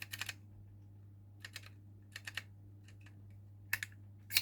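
Keys pressed on the small keyboard of an Action store label maker, in short clusters of sharp clicks separated by pauses over a steady low hum.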